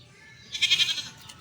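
A goat bleats once outdoors, a short, wavering nasal call that rises out of quiet background at moderate distance.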